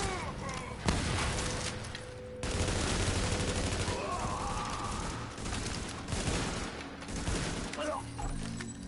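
Gunfire in the video game The Division: dense bursts of shots and impacts crackle continuously, loud and busy, with voices talking over the action.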